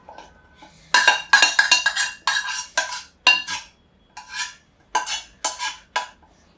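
Sweet corn is tipped into a pan with whole spices and stirred with a metal spoon, giving sharp, irregular clinks and scrapes in short clusters with brief pauses between them.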